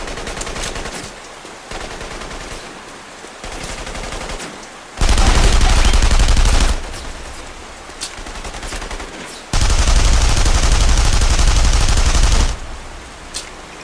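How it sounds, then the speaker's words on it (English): Automatic gunfire in the World War II stealth game The Saboteur, loud sustained bursts of rapid shots in two long volleys, with sparser scattered shots between them. "Gunfire!"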